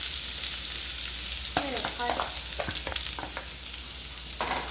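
Onions frying in a pan sizzle steadily while a spoon stirs them. The spoon makes several scraping, knocking sounds against the pan over a constant hiss, with no talking.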